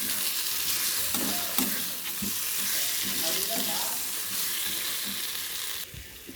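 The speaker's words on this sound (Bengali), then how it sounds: "আলুটাকে দিয়ে একটু কষে নেব।" Fried potatoes sizzling in a spice masala in a pan while being stirred, a continuous loud hiss broken by repeated scrapes and clinks of the spoon, with no talk.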